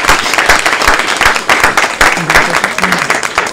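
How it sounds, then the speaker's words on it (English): Audience applause for educators at a city award ceremony honoring school district teachers, a steady dense wash of many hands clapping throughout, loud and close with no break. "So a round of applause for all of our educators."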